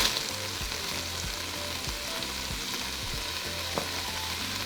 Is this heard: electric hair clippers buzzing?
no